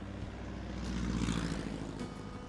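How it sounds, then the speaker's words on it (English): A small propeller plane landing on a flat desert floor near Kupapiti, its engine a steady droning hum that swells slightly and then holds, close by and continuous, with no voices. "The flat desert floor on the outskirts of Kupapiti makes a perfect landing strip for Brian's plane"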